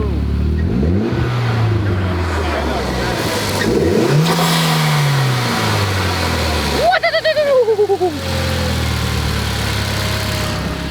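A Mitsubishi Evo X engine runs after a fuel parts install, holding a steady rumbling idle with a few revs and a sharp sweeping whine midway, heard close with people talking over it.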